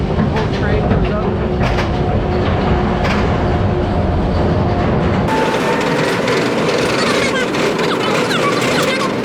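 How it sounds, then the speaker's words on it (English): The Kumba roller coaster train at Busch Gardens rumbles and clatters up the track, loud and continuous, with crowd noise and voices in the background. "whole train comes up."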